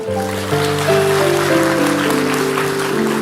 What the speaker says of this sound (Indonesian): bapak-bapak kasih tepuk tangan untuk mereka